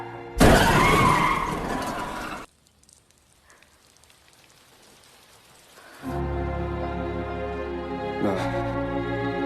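A car skidding in a dramatic car-crash scene from the 2011 film Always: a loud, harsh burst of tyre screech lasting about two seconds, followed by near silence and then a sustained low engine-like rumble.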